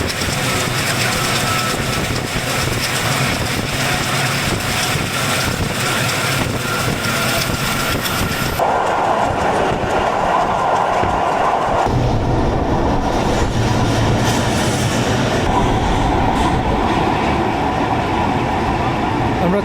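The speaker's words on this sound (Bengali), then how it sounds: "অর্থাৎ এখনই ট্রেন ছেড়ে দিবে" An Ovijatri commuter train on the Gopalganj–Dhaka line pulls out of a station at night, with loud, steady rumbling and rattling of the rail cars and a shift in engine tone partway through; faint background voices.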